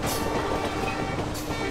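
A train approaching Narowal station in Pakistan rumbles loudly and continuously with rolling wheel noise and rail clatter, close by with no voices.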